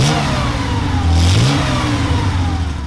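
A 1973 Porsche 911T Targa engine revs loudly up and down, its pitch rising and falling in quick surges close by, with no voices.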